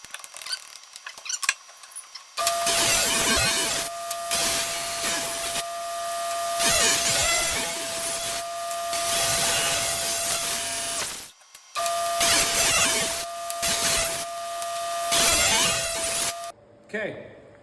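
A saw rips wood into half-inch plates for coasters, two long loud whining cuts separated by a short gap, with faint clatter and handling noise before and after.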